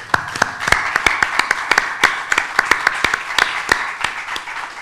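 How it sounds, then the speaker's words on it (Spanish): Applause from a small audience at a flamenco lecture, with distinct, sharp individual claps scattered irregularly over a dense background of clapping, fairly close and loud. "Bienvenido y un aplauso para él."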